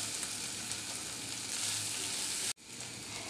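Mashed potato with garam masala frying in a pan for a beef bread roll filling, giving a loud, steady sizzle that cuts off briefly and then resumes, with no talking.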